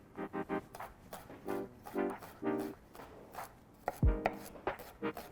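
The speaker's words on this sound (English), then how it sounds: "1 shallot, minced." A knife mincing a shallot on a cutting board: quick, crisp chopping taps in uneven bursts, close and distinct, with a heavier thud near the end.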